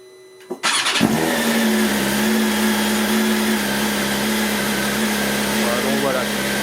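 A new motorcycle engine fires up with a brief cranking burst, then settles into a steady, close idle with an even low hum that holds for several seconds.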